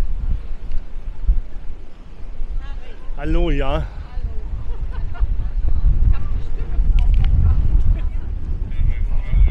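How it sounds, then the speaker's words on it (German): Strong wind buffets the microphone at a beach during a carnival-season gathering, a constant low rumble under nearby crowd noise and brief talk. "ihr seht, wir haben hier richtig Wind"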